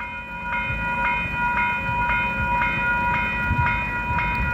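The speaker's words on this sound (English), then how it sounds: "Where's the train coming from?" A train rumbles past close by with a steady low roar at the Opaheke Road level crossing in Auckland, while the crossing bell dings in a regular, even rhythm.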